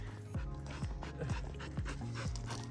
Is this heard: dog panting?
yes